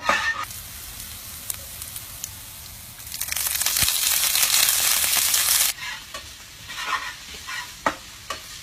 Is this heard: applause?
no